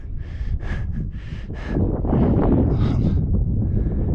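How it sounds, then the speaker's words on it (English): Wind blows across the open gypsum dunes at White Sands, New Mexico, buffeting the microphone in loud, rough gusts that swell and rush without pause and grow stronger partway through. "these little shelters that are oriented to shield you from the prevailing winds, which I believe are blowing now"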